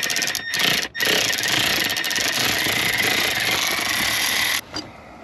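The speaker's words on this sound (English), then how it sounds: "now I'm gonna spin it out the rest of the way with the Milwaukee ratchet" A Milwaukee power ratchet spins a bolt out during a brake booster replacement on a Lexus GX470, a loud high whine running for several seconds, broken by two brief stops near the start, then winding down.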